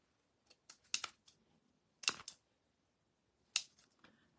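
Scissors snip in short, crisp bursts up close as pieces are cut for a DIY porcelain-look foam pumpkin, with quiet pauses between three clusters of cuts.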